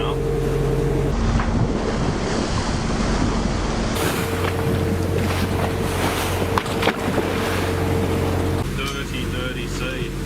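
Rough open-ocean waves slapping and rushing around a sailing boat under way, with gusty wind buffeting the microphone and the hull's creaks and thumps. A voice talks briefly over the loud, continuous churn.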